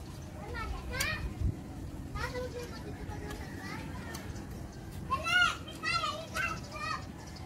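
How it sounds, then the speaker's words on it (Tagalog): Children play and chatter noisily downstairs, their high voices and shrieks heard at a distance in bursts over a steady indoor hum. "maingay yung mga bata sa baba"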